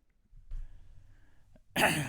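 A single sharp cough bursts out at the end after a quiet stretch, close and loud.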